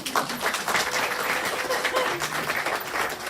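An audience at a 2022 National Honor Society induction ceremony breaks into steady applause, a dense patter of clapping sustained throughout, with voices faintly mixed in.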